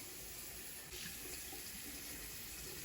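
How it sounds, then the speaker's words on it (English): Water running steadily from a sink tap for handwashing, a continuous hiss that brightens and strengthens about a second in as the flow opens further. "I'm gonna open up the water here"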